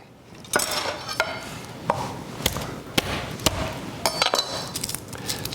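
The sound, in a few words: knife slicing fresh garlic thin on cutting board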